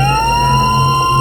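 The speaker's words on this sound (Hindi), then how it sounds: "पुलिस की गाड़ी की आवाज है" A police car siren wails loud and close, a single sustained tone rising gently in pitch over a low vehicle rumble.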